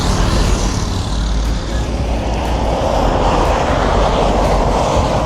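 A Triumph Bobber motorcycle engine runs with a steady, loud rumble close by on a mountain road trip in Thailand, with no talking.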